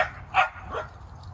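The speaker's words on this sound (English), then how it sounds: "My dog Marigold's having fun apparently" A dog barks a few times nearby in a garden, with short, sharp yips spaced unevenly against a quiet background.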